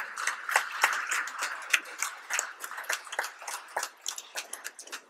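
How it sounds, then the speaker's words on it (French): A church audience claps, a soft, scattered patter of handclaps that pulses unevenly, moderately distant, with no voices over it. "Tu peux l'applaudir très fort."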